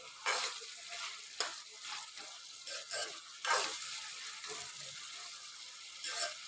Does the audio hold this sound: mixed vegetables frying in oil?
yes